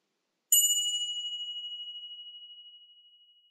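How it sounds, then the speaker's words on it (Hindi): A single meditation bell struck once to close a breathing practice, its clear ringing tone sustained and slowly fading over several seconds in silence. "घंटी के बजने पर हम यह प्रैक्टिस समाप्त करेंगे।"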